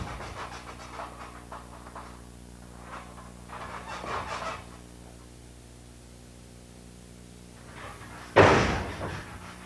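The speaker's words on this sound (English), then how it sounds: "It's just a matter of popping the meaty part of your forearm against the width of his chest." A wrestler's forearm smashes into an opponent's chest with a single loud, sharp slap near the end, following heavy breathing and shuffling.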